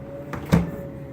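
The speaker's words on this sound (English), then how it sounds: "nice squeaky door too" A new GE refrigerator door squeaks once as it swings, a short creak rising above a steady low hum in a quiet room.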